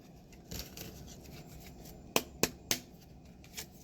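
Tarot cards being cut and handled, a few soft shuffling rustles followed by three sharp close card snaps in quick succession and a faint final tap, in a quiet room.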